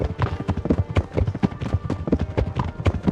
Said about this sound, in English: why the horse is so fucking loud?